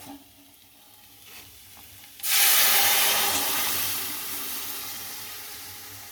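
Chana dal dropped into a hot pan of fried coconut and potatoes: after a quiet stretch, a sudden loud burst of sizzling that stays strong, then settles slightly but keeps hissing to the end.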